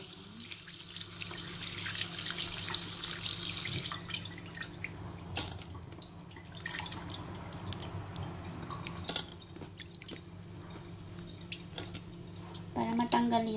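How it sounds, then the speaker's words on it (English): Pork ribs are rinsed under a running kitchen tap, with water splashing and trickling steadily over the meat and into the sink for several seconds, along with small knocks and handling sounds. "hugasan muna natin yung meat natin with water"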